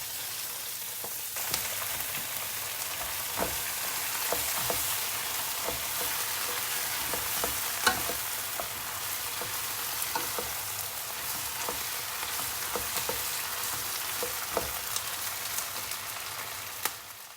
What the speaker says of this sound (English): And now I'm going to add in the bak choy inside.